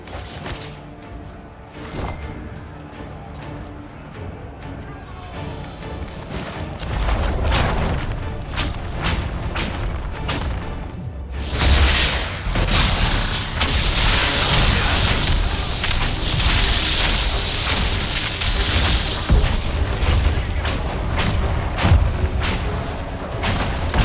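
Trebuchet volleys in the video game Dragon Age Inquisition during a battle at a breach, with repeated heavy booms, thuds and whooshes that swell into a dense, loud barrage while voices speak intermittently.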